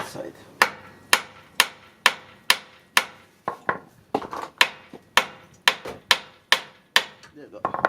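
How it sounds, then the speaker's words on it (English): Hammer blows ring out during a CV axle replacement on a 2011 Toyota Sienna, about a dozen sharp metallic strikes at a steady rhythm, close and loud, with a few softer taps between. "get a hammer."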